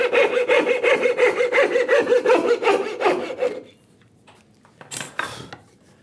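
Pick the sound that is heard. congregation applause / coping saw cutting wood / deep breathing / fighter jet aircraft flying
coping saw cutting wood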